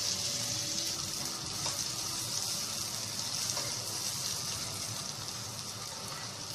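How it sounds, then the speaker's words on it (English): Malpua batter fries in very hot ghee, giving a steady, close hiss and crackle of sizzling oil that holds evenly throughout with no talking. "make sure that your ghee is very hot before you pour in another malpua"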